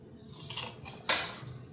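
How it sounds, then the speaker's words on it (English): Samosa dough or pastry being cut into four pieces with a knife on a board, a couple of soft scraping knife strokes ending in a sharper tap, close and quiet with no talking. "Next thing, I just cut it into 4."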